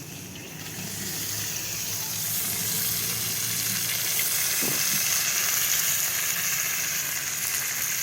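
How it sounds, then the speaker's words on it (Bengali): Ghee sizzles and crackles in a pan while frying for basanti polao, a steady close hiss that builds slightly, with a brief stir or clink partway through. "বন্ধুরা আমি ঘিয়ে ভেজে নিয়েছি।"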